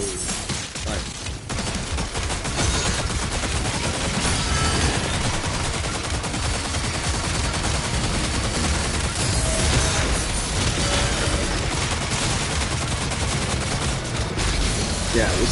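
Continuous rapid chain gun fire in DOOM: The Dark Ages, loud and dense, ripping on for many seconds with a brief lull near the start.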